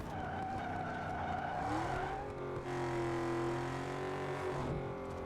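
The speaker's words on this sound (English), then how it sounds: "Okay, start braking now." A car brakes hard in Need for Speed Underground 2, its tires screeching in a long, rising and falling skid over a steady engine note, with no talk.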